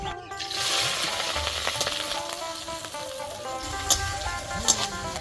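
Dried chili, sliced onion and garlic hit hot oil in a village kitchen, giving a loud, steady close sizzle with a few sharp pops and scrapes of stirring, no voices.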